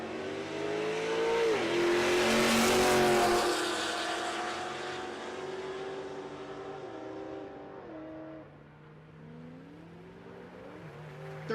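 A 2009 Pontiac G8 and an SRT8 launch side by side at a Texas Motorplex drag race, loud engine roar swelling as they pull away, then fading with shifting engine tones into the distance.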